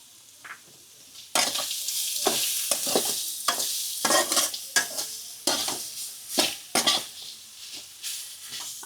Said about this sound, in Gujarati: બદામ ને નાખી દેવી, એટલે આ રીતે પણ ઘીમાં સરસ શેકાઈ જાય.